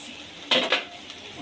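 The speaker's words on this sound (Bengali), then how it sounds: "10 মিনিট পর এবার ঢাকাটা খুলে নেব।" A metal lid is lifted off a cooking pot of red amaranth greens, a short double clank of metal against metal, close and brief, over a quiet kitchen background.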